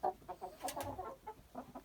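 A Livny calico rooster clucks in a series of short, close, throaty bursts with brief pauses between them, and no voices.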